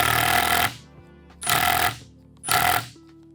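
A cordless impact driver runs in three loud, close bursts of about half a second each, separated by short pauses.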